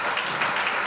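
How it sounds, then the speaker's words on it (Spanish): A brief, even burst of audience applause at a café talk with a Chilean film director, dense clapping at moderate level with no pauses. "Un aplauso para eso, por favor"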